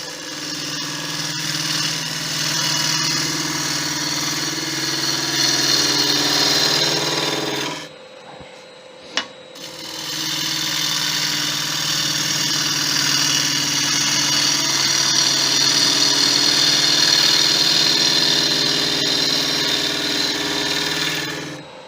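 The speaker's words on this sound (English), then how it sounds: "I'm actually cutting this bowl slightly faster than I normally would, just to see how the gouge handles it" A lathe turning a kiln-dried wood bowl cut with a Crown Crio gouge, a loud steady motor hum with continuous cutting noise, broken by a brief pause midway before resuming.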